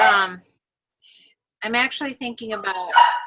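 A few sharp dog barks and yips ring out in short bursts after a brief pause, fairly close, following a snippet of voice.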